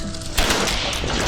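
A loud, sharp blast of gunfire erupts suddenly during a duck hunt in Arkansas, leaving a dense, roaring wash of noise that carries on for about a second.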